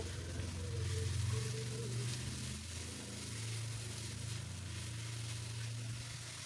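A steady, low sizzle of ground onion and chili paste frying in a pan, continuous and fairly quiet, with no talking.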